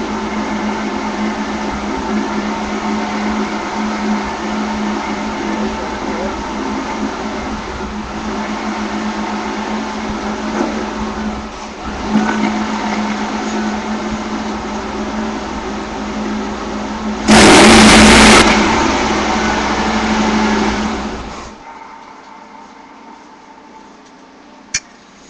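A car engine idles steadily inside a home garage with a low droning hum, gives one brief loud rev burst near the end, then shuts off, leaving near silence.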